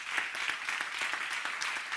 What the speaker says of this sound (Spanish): un aplauso para el cartenet también